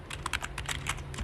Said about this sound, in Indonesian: Ketik lagi di sini